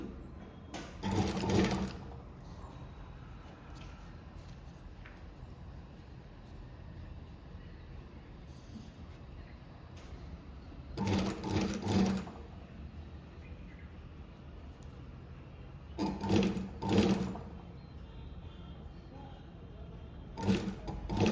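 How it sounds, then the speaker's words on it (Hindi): A domestic sewing machine stitches blouse lining fabric in three or four short bursts of rapid whirring, each lasting about a second, separated by quiet pauses of several seconds. "ओपन करने के बाद यहाँ से ही हम स्टिच लगाना स्टार्ट करेंगे।"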